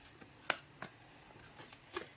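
Tarot cards being drawn and laid out, a few soft, quick papery snaps and slaps at close range, spaced apart and fairly quiet.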